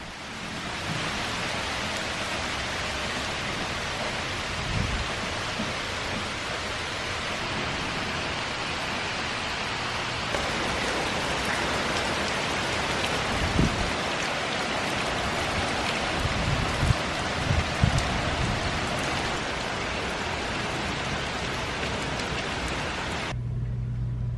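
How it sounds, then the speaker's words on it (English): Steady rain falls outdoors as a dense, even hiss that continues the whole time, with a few soft low thumps and a passing car-like swell beneath it and no voices. "it's raining! You can actually probably hear it."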